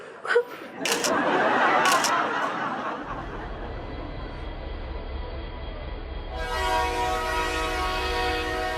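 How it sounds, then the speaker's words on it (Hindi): A train pulls away with a low rolling rumble. A sustained horn blares near the end, and voices and laughter come just before it. "अरे चल यार ट्रेन चल गई"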